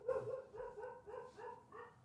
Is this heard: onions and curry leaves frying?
no